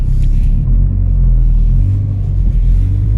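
A boosted Corsa B with a C20LET engine drives on a road, giving off a loud, steady close engine rumble and road roar inside the cabin that swells slightly.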